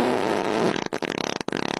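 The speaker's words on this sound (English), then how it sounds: "That's some interesting farts." Comedic fart sounds in an internet animation: one long, loud, continuous blast that breaks into a rapid sputtering flutter, all within a couple of seconds with no talking.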